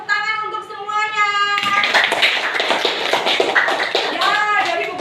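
Students in a classroom clap for the groups, a burst of lively, uneven applause starting after a short sung or spoken tone, with children's voices mixed into the clapping.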